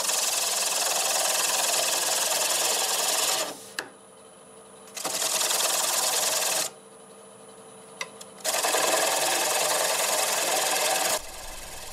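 A wood lathe turning a bowl tenon at 620 RPM gives a loud, steady whir in three bursts separated by quieter pauses, with a couple of sharp ticks.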